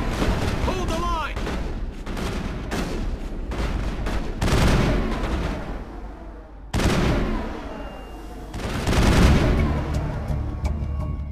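Dense, repeated gunfire and booming blasts from a Mass Effect 1 battle, loud and continuous with bursts rising and falling over about eleven seconds.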